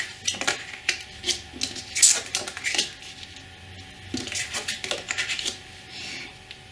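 Tarot cards turned over one after another on a table, giving a run of soft, crisp flicks and taps at close range with no talking.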